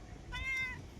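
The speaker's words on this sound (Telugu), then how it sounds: "నేను వీడియో తీస్తుంటే నా కాళ్ళకు ఇగో పిల్లి వచ్చింది" A cat outdoors among rocky hills behind Falaknuma Palace in Hyderabad gives a single clear, drawn-out meow close by, rising and fading over about half a second against quiet, cloudy-day background noise.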